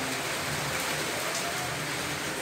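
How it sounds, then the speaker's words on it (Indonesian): Rain pours steadily at the evening fast-breaking hour, a dense, unbroken hiss of drops hitting surfaces close by that stays at a constant level throughout, with no talking. "Hujan."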